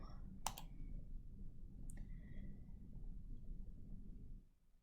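Sharp, close computer mouse click on a borrow button, a quick double click followed by a second fainter click a moment later over low steady room hum.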